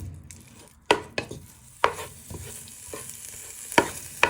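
Chicken sizzles and fries in a hot pan while a wooden spoon scrapes and knocks against it in several sharp strikes, close and steady.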